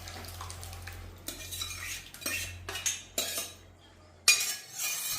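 A metal spoon stirs ground dal into cooked masala in a pan, with a series of clinks and scrapes against the pan coming in irregular bursts over quiet background hum.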